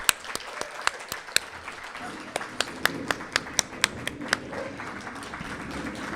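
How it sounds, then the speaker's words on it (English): A residency graduation audience claps in honor of a program leader: sparse, distinct sharp hand claps ring out one by one over a busy room murmur, growing more frequent toward the middle before fading into background chatter. "I think we should stand up and clap"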